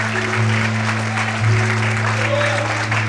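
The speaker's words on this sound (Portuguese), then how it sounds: "Aplauda o Senhor nessa noite" A church congregation applauds during an evening worship service, the clapping steady and moderately loud over a sustained low musical drone, with a voice faintly present underneath.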